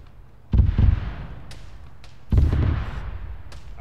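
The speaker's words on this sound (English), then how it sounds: "We got an artillery barrage coming in from west" An artillery barrage in a video game: two heavy booming impacts about two seconds apart, each followed by a rumbling tail, with a few faint sharp cracks in between.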